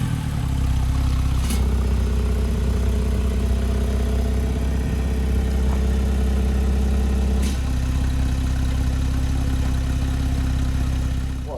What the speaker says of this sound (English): Oi, sports exhaust.